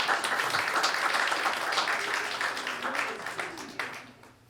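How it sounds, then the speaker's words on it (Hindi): Audience at a poetry event claps together in a full burst of applause that slowly fades toward the end, heard alone without talk. "एक बार ज़ोरदार तालियां बजा दीजिए उसके लिए"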